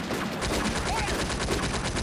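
Sustained machine-gun fire from a German defender's position in the video game Combat Mission: Afrika Korps, a dense, loud, continuous rattle of rapid shots with no pause over two seconds.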